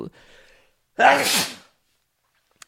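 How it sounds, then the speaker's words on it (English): A single sharp sneeze close by, preceded by a soft breathy intake, then quiet with a faint click at the end. "There's a sneeze on the podcast."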